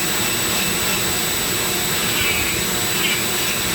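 A Dremel rotary tool carving a cherry wood pumpkin gives a steady, loud high-pitched whine that holds for several seconds, with slight variations as the bit bites into the wood.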